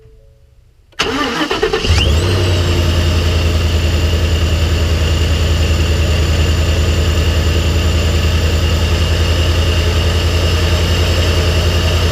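A Ford F150 engine fitted with a Procharger supercharger starts up and then idles steadily and loudly, a deep even drone with a constant whine on top and no talk.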